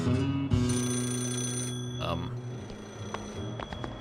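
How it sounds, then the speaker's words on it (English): Repeated bell ringing from a payphone in the video game Yakuza 0 carries on steadily behind background game music, with a voice speaking briefly over it partway through. "Looks like it's that payphone."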